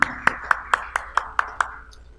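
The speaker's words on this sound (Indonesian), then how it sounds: "Mari saya rindu beri tepuk tangan yang terbaik buat Tuhan kita." A church congregation claps in unison, giving about eight sharp, evenly spaced claps at a brisk steady beat that fade out at the end.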